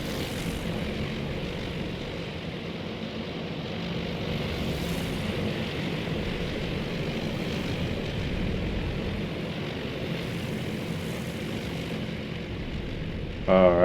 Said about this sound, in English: the bombers are getting into bombing formation, I think